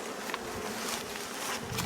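Honey bees buzzing around hive frames being moved between boxes, a steady close hum with a few faint knocks.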